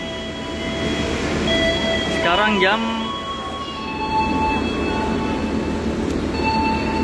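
A Majapahit long-distance passenger train sits in an Indonesian railway station with a steady rumble and a brief metallic squeal, while a person speaks over the station noise.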